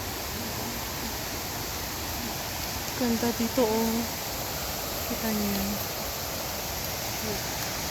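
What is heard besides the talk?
flowing mountain stream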